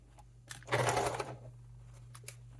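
A sewing machine whirs through a short burst of stitching, close and fairly loud, surrounded by a few light clicks and handling noises.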